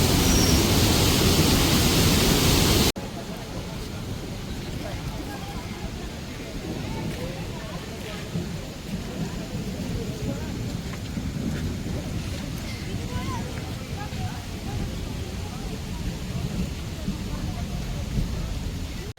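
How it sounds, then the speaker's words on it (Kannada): Heavy rain falling steadily outdoors on a trek near a cave temple, a dense broadband wash of downpour after a louder opening burst, with no distinct thunder rumble evident. "ಜೋರು ಮಳೆ ಬಂದುಬಿಡ್ತು"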